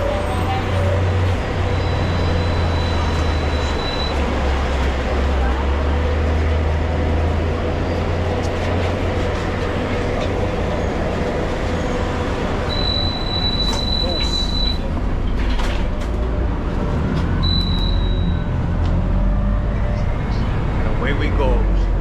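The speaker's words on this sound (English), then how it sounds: "We're on the Trans-Caribbean bus with John the Torres." A rumbling Trans-Caribbean city bus rides through Cartagena, Colombia, with a loud continuous engine and road drone, rattling cabin, a few high squeals from brakes or fittings, and voices talking over the noise.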